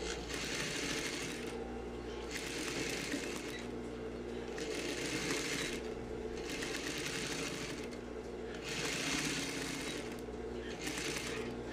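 A sewing machine runs a backstitch seam on fabric with fused facings, whirring in steady bursts that start and stop in a regular rhythm, close and alone.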